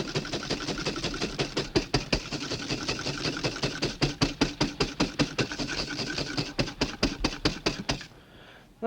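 A whisk beats egg whites and sugar toward stiff peaks in a bowl. Quick, regular, close strokes tap and swish in a steady rhythm for about eight seconds, then stop.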